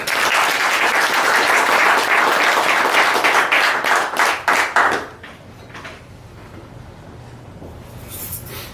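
Audience applause fills a room, loud and dense at first, then thinning into a few scattered claps before fading out near the midpoint, leaving quiet room tone.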